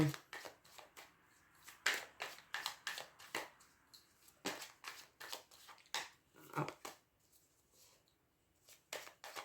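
Tarot cards being cut and shuffled by hand, a series of crisp riffling and slapping bursts in irregular rhythm, close and fairly quiet, with short pauses between.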